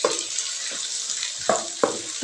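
Taro roots (arbi) frying in oil give a steady bright sizzle, with a few soft clicks and bubbling pops breaking through at intervals, close and alone.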